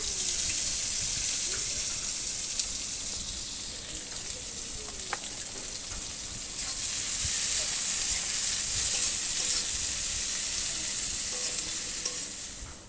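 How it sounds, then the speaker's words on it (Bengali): Sliced onions fry in oil in a pan already used for frying fish, a continuous, fairly loud sizzling hiss with occasional stirring scrapes and no voices. "প্রথমে ওতে খানিকটা তেল দিয়ে পেঁয়াজগুলো ভেজে নিচ্ছি।"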